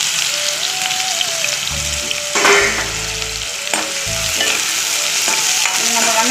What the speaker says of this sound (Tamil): நம்ம வெங்காயம் மட்டும்தாங்க வதக்குறோம்